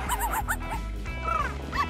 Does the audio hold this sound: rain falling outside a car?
no